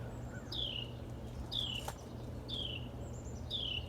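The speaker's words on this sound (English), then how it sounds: "Listen to them birds." Small birds chirp outdoors at a home in Virginia, repeated short descending calls about once a second, moderately distant over a steady low background hum and faint insect noise.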